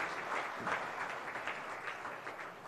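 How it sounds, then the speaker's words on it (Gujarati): Sustained applause from a live audience at a Gujarati literary ghazal evening, a dense, steady patter of many hands clapping at moderate distance throughout, with no speech over it. "જોરદાર તાળી થઈ જાય"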